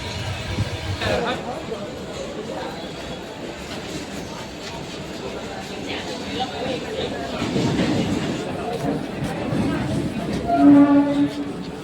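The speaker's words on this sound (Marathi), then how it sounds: "ट्रेनमध्ये बसलोय" A passenger train bound from Surat to Mumbai rumbles and clatters along the rails, wheels clicking over joints beneath a steady interior roar, with people talking over it and a swell of louder rattling near the end.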